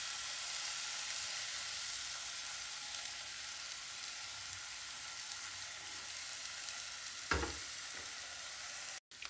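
Steady, close sizzle of noodles being stir-fried in a clay pot, a continuous hiss with a few soft scrapes and one louder clatter near the end, no voices.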